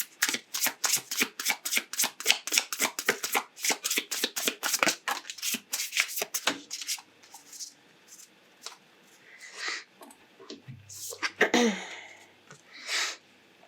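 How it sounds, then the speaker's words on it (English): Oracle cards shuffled by hand at close range produce a rapid run of crisp, rhythmic riffling slaps for about seven seconds, followed by a few sparser rustles and handling sounds. "let's pull a couple of oracle cards to see if there's anything to add before we close it"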